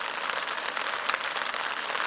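Light rain falls steadily on a wilderness campsite, making a soft, even hiss of fine drops pattering on surfaces without a break.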